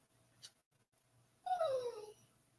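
A dog whines for a treat: one drawn-out, falling whimper up close, fairly quiet, preceded by faint breathy sounds and no talk.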